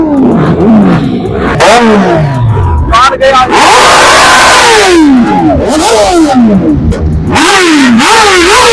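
A nearby motorcycle engine revs hard again and again, its pitch sweeping up and down in loud, rising and falling bursts.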